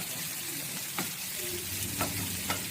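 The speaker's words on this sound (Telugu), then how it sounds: "ఇప్పుడు మనము ఈ ఆనియన్ పీసెస్ కూడా వేద్దాము వేసి ఇది కూడా లైట్ బ్రౌన్ కలర్ వచ్చే వరకు మంచిగా ఇలాగా ఫ్రై చేసుకుందాము" Onion pieces frying in a pan for a lentil curry, a steady soft sizzle with a few brief stirring clinks, heard close and alone.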